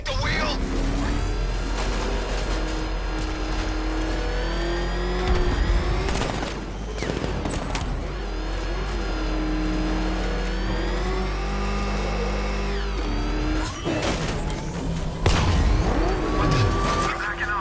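Car engine in Batman Arkham Knight, revving and rising and falling in pitch through repeated accelerations, with occasional crash-like impacts and voices talking over the driving.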